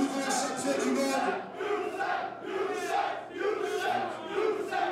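A wrestling crowd at a Cyber Event show yells insults at a wrestler, massed voices bursting out in rhythmic waves of shouting roughly every second or so. The chanting is loud and close, with no single voice standing out.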